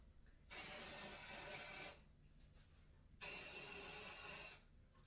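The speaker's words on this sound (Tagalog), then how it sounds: "Snow spray. Spray this one." A can of snow spray hisses onto a real Christmas tree in two steady bursts of about a second and a half each, close and loud, separated by quiet.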